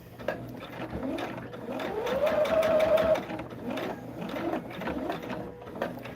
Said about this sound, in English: And you're watching me sew them together right now.